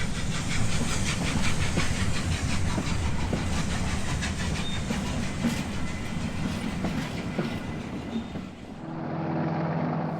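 A steam locomotive, S-15 Class 460 No. 827, hauls a freight train of Valentine tanks past with a loud, steady rumble and rhythmic clickety-clack of wheels, hissing throughout, then drops to a quieter hum at the end.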